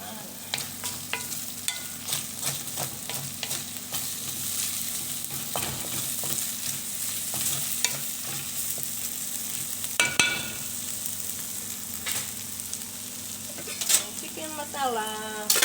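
Corned beef frying in a pan, a steady sizzle with stirring scrapes and clinks running throughout, close and fairly loud, with a brief spoken phrase or two.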